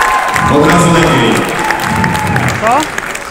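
Loud, sustained applause fills a youth football awards ceremony in Lublin for the winning Motor Lublin team, with cheering, whistles and shouting voices rising over the clapping.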